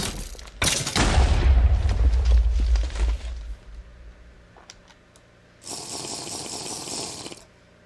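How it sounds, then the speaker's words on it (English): Loud booming blasts from skeletons firing explosive rounds in the modded Minecraft pack Enigmatica 9, a heavy burst early followed by a quieter rumble and a second hissing blast near the end, with no talk. "Since when were skeletons firing explosive rounds?"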